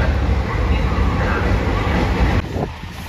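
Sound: JR Shikoku Anpanman limited express train running

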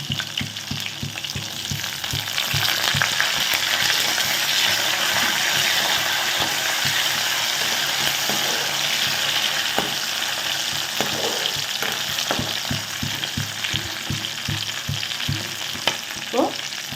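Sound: garlic, green chilies and curry leaves frying in pan

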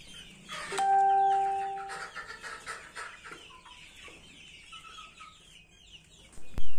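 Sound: ELBA chickens, 60 days old

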